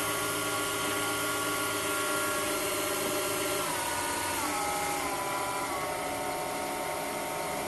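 A 775 DC motor spins on a variable bench power supply at 12 volts, giving a steady high-pitched electric whine with a buzzy drone. Partway through, the tone shifts slightly as the motor settles, and the sound stays loud and continuous with no voices.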